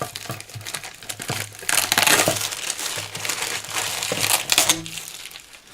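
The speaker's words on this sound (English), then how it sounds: "Just going to cut off the label." A plastic bottle's label is cut away for a simple homemade lantern, producing close, loud crinkling and crunching of thin plastic in uneven bursts, with some brief clicks and no speech.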